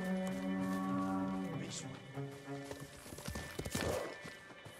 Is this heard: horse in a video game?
yes